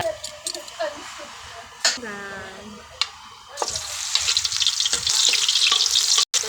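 Hot cooking oil starts crackling in a pan for chicken pancit, rising to a steady loud frying hiss after a few seconds of clatter and brief voice in a home kitchen.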